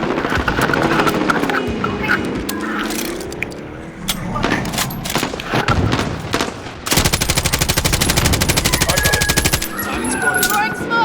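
Call of Duty Warzone video game combat, with rapid automatic gunfire bursts and a long sustained machine-gun stretch, scattered single shots and vehicle engine noise underneath, loud and close.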